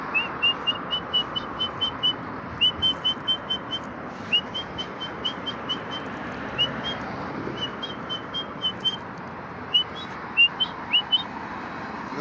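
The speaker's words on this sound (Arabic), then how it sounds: "الحمام في الانتظار" Pigeons gather at food, heard as a steady series of soft whistling chirps and short calls over a quiet outdoor background, fairly close and without any speech.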